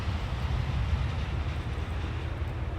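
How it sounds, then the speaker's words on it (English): A train approaching a railroad tunnel makes a steady, loud low rumble with no breaks across the short stretch and no voices. "Sounds like the train could be coming."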